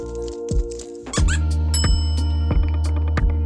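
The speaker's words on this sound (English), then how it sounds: "Toys that make a noise are another great attention grabber, be that squeaky dog and cat toys" Squeaky toy for dogs and cats, played with by ferrets, giving a run of sharp rubbery squeaks in irregular bursts, close and fairly loud over low tonal background sound.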